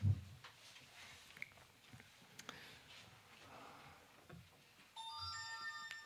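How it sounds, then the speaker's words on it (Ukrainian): A mobile phone ringtone sounds partway through a church sermon, a bright melodic electronic ring that starts near the end over a quiet room with faint shuffling and small knocks. "Це у когось телефон?"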